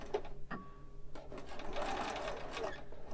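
A sewing machine runs a backstitch on a monk robe, with a short burst followed by a steady, close whir of stitching that lasts to the end.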